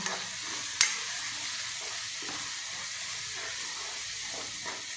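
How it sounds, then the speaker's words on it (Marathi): Pav bhaji masala being stirred into a frying pan mixture, a continuous hissing sizzle with a sharp clink of a spoon early on and faint scraping strokes, close by with no voices. "आणि हा पावभाजी मसाला टाकू, ते मिक्स करून घ्या।"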